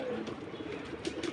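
Several pigeons, a few of them sick with colds and wheezing, coo softly in a loft, low murmuring calls repeating unevenly over a steady rustling background with no one talking.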